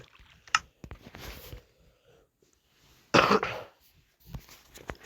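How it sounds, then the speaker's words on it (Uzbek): A person with a cold coughs and clears their throat indoors, with a few short coughs early on and one louder, harsher cough in the middle, separated by quiet pauses. "Ozgina kasalman, yo'talib turishim mumkin."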